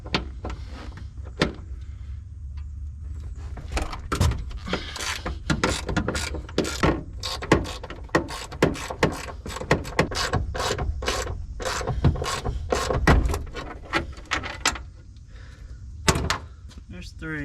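Ratchet wrench clicking rapidly in repeated bursts while 12 mm door hinge bolts are backed out on a Datsun RV, close and fairly loud, with a voice talking now and then.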